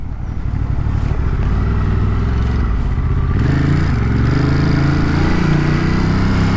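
An old Ducati Monster motorcycle engine idles on a freezing 28°F morning, a loud, steady, close rumble with uneven lumpy pulses that settle into a smoother throb partway through.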